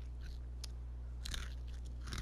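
Sharp crunches of someone biting into and chewing Takis Fuego rolled tortilla chips, a few crisp bursts spread unevenly over a low steady background hum, close to the mic.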